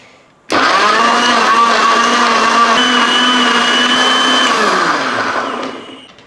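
A kitchen blender starts abruptly and whirs loudly and steadily for about five seconds while blending muskmelon shake with honey, then winds down and fades out.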